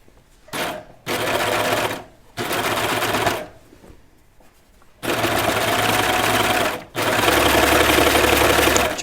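A sewing machine stitches the hem of a stretchy knit T-shirt in several loud bursts of steady whirring, separated by short pauses and a longer quieter gap, heard up close with no talking.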